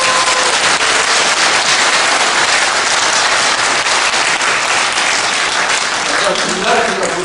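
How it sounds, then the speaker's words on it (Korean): A large audience at a patriotic rally gathering claps loudly and continuously, a dense, unbroken wash of applause that fills the whole stretch at close range. "우리 정승산 감독한테 박수를 보내드립니다"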